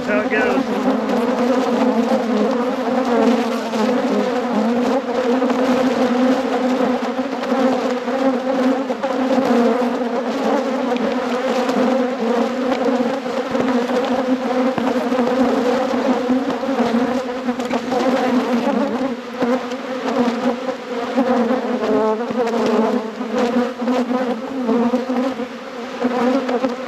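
A dense, loud swarm of honeybees hums continuously around an opened deep hive being inspected after winter, the agitated buzzing filling the whole span without a break.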